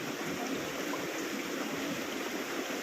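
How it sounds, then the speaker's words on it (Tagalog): A flowing mountain stream runs steadily, a broad continuous rush of water close by with no pauses and no voices. "Ito ang batis na labing pitong bisis naming tawirin"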